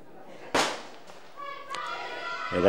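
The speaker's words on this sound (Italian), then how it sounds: "Ed ecco il primo sparo della giornata" A starting pistol fires at the start of a women's 400 m hurdles heat at an outdoor athletics meeting: one sharp, loud crack that rings out briefly, followed by faint stadium ambience and tonal sounds.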